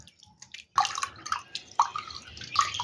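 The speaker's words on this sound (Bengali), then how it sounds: "এবার একটা ছাঁকনির সাহায্যে ভালো করে ছেঁকে নেব" Fresh blended watermelon juice is strained through a kitchen strainer, giving a short burst of close, wet dripping and trickling with a few distinct drops standing out, with no voices.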